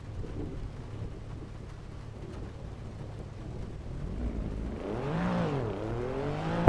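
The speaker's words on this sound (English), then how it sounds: "It looks like proper rain." Steady rain hiss in a racing video game, continuous and even throughout, with a car engine rising and revving in near the end.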